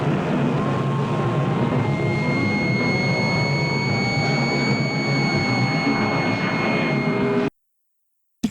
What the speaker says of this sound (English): That's a real airplane, by the way.